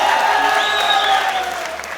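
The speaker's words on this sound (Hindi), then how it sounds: "अगर आपको लग रहा है तालियां आपके लिए हैं, तो गलत फहमी है ये निम्रा के लिए।" Studio audience applause for a contestant named Nimra on a Pakistani TV quiz show, a steady wash of clapping at moderate level that tapers slightly toward the end.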